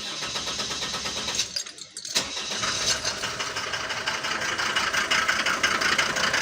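A car engine is started cold in the morning: a brief cranking stumble and short dip, then the engine catches and settles into a loud, rough, steady idle close by, with no voices.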